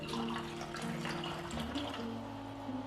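Kangen alkaline water is poured into several containers, a continuous close splashing trickle at moderate volume with changing pitch as the vessels fill, no talk.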